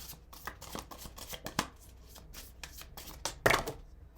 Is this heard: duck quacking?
no